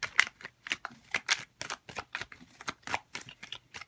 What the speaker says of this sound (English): I'm going to shuffle on the spot for this reading